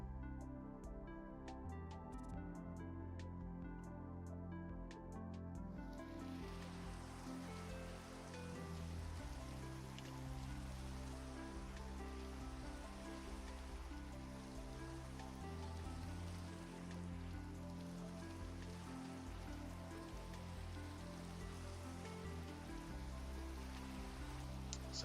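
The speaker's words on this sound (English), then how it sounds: "The beautiful sound of rain will be interrupted briefly" Steady Minecraft rain patters continuously on surfaces, a soft even hiss that carries on unbroken without any talking.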